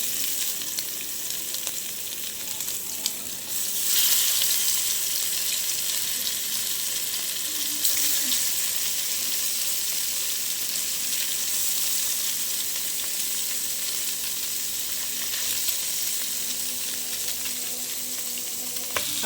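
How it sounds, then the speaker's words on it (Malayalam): Small prawns fry in a hot pan with turmeric masala, giving a steady, close, crackling sizzle that holds evenly throughout and swells slightly near the start. "അപ്പോൾ ഇത് ചൂടാകുമ്പോൾ നമുക്ക് ചെമ്മീൻ കുട്ടന്മാരെ ഇട്ട് കൊടുക്കാം."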